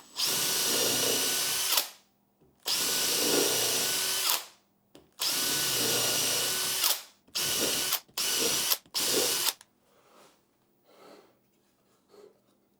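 A power drill with a countersink bit whirs loudly in three long bursts, then several short quick pulses, followed by faint handling noises and quiet.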